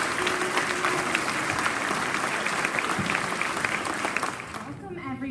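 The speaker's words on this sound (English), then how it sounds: "Would you mind giving Miss Hinkle, our new music teacher, a big round of applause as the kindergartners come on the stage" Steady, loud applause fills a school auditorium at an elementary fall concert as kindergartners come onstage, sustained clapping from a large crowd that tapers off before a voice begins speaking.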